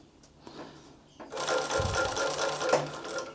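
A Typical TW3 343D industrial cylinder arm walking foot sewing machine stitches a heavy seam, starting after a quiet moment into a loud, rapid, steady mechanical clatter, with faint voice in the background at the start.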